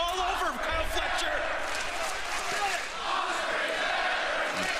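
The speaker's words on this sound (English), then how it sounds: "They're chanting Ospreay's better to Kyle Fletcher." Wrestling crowd in an Indiana arena chanting and roaring, a loud rhythmic mass of voices filling the space with thumps from the ring, while a commentator talks over it.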